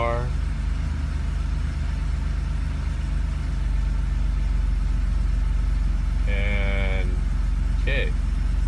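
A car engine idles after a cold start with a steady, continuous low hum throughout, while a voice speaks over it and a couple of brief tonal beeps sound near the end.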